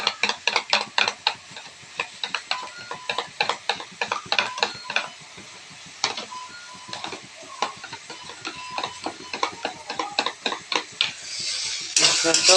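Sour yogurt whisked in a bowl, a steady run of quick clicking and tapping strokes against the bowl, close and fairly loud, with no talking, and a brief burst of broadband noise near the end.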